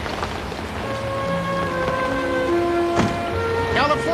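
Steady heavy rain hisses throughout, with a few short tonal sounds and a brief voice over it.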